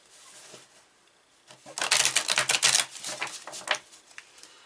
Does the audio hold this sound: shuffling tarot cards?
yes